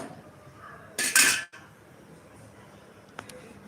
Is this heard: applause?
no